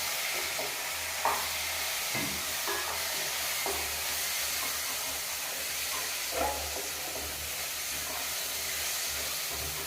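Oats dish being stirred in a hot pan, a steady sizzling hiss with occasional soft scraping strokes of the spoon, fairly close and continuous, no voices.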